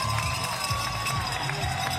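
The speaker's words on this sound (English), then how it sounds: "Tim, listen to that crowd." A crowd lines a road race course at Adidas headquarters in Herzogenaurach, cheering and shouting steadily as runners pass through with one lap left, a dense continuous roar with scattered louder whoops.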